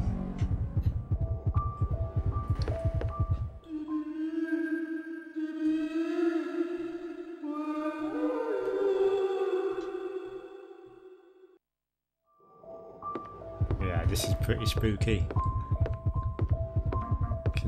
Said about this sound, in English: Can hear my heartbeat is going really fast now.